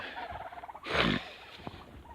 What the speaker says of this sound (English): it's probably empty now, that's why they're squawking